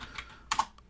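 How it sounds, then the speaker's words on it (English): Typing a command on a computer keyboard: a few quick, light key taps close by, with a short cluster of clicks midway and one last soft tap, alone without talk. "just type clear."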